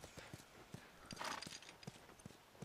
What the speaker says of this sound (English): Oh. Horse. There's horse.